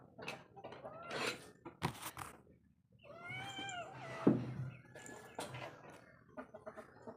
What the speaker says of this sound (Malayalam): എൻ്റെ പൂച്ചകളെയും കോഴികളെയും കാണിക്കാനാണ് പോകുന്നത്. ഞാൻ പൂച്ചകളെ ആദ്യം കാണിച്ചു തരാം.